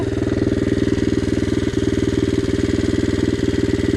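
A Loncin 110/125 motorcycle engine running on a bench test before a turbo is fitted, a loud, close, steady rapid thumping idle with an even pulsing rhythm throughout and no talking.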